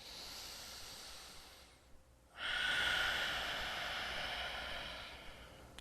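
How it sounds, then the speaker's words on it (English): Slow nasal breathing during a beginner floor exercise workout: a long, airy exhale, a short pause, then a strong steady inhale and another drawn-out breath, close and loud with no talking. "slowly breathing in and out of your nose"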